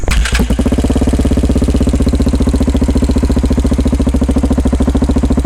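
KTM 690R enduro single-cylinder motorcycle catching and settling into a loud, close idle, a fast regular thumping pulse that stays steady throughout with no voices.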